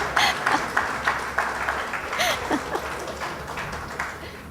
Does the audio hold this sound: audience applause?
yes